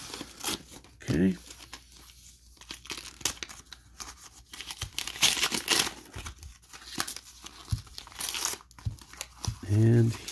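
Paper wrapping torn and crumpled off a mailed package holding a graded trading card, close crinkling and ripping bursts scattered through the clip with a person speaking at times.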